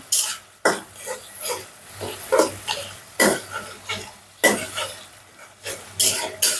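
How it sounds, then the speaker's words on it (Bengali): Fish curry spice paste is stirred and fried in a pan with a bay leaf, giving repeated scraping strokes over a soft sizzle, close and rhythmic. "মশলাটা একটু কষিয়ে দিচ্ছি"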